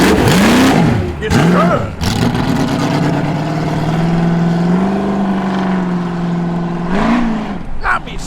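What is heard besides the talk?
Holden Torana car arriving and revving at car show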